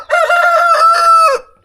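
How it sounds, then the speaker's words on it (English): A backyard rooster crows once, loud and close, a drawn-out cock-a-doodle-doo lasting over a second in a quiet spring garden, followed by a brief cluck. "chickens are awake."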